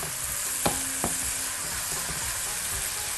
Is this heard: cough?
no